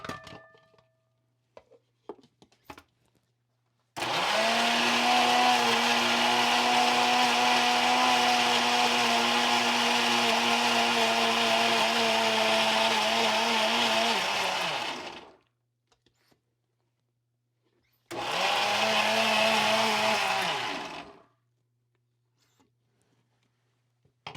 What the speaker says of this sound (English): So I'm going to grind it again.